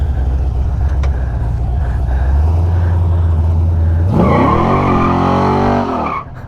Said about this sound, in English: This dude just pulled up and said hi. Beautiful Camaro.